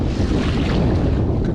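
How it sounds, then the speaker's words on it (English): Waves break on a rocky shelf along the New Zealand coast, heard from a kayak as a loud, continuous rushing wash of surf mixed with wind noise, with no talking. "Waves breaking on a little shelf here."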